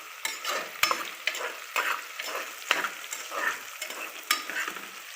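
Green chillies fry with onions in a pan for a homemade biryani while a spoon stirs them in regular scraping strokes over a sizzle, close and unbroken by talk.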